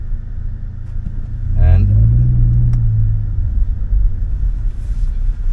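A Skoda Octavia RS245 running a Revo Stage 2 map revs up once, its engine note climbing and then holding a steady drone under a man's speech amid low road rumble.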